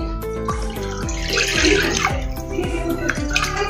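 Water is poured steadily from a glass into a cooking pan holding a little oil, a continuous close splashing and trickling that runs throughout.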